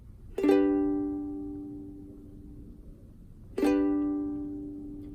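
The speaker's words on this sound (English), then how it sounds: "I'm going to strum each of those chords just once" A chord strummed once and left to ring, then a second chord strummed about three seconds later, each sustaining and slowly fading.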